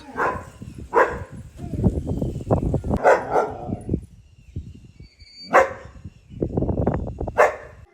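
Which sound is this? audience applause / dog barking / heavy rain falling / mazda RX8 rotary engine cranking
dog barking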